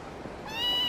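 A short, faint cat meow from the Kurohyou 2 video game, with tonal harmonics in its second half, rising out of a soft, steady game background.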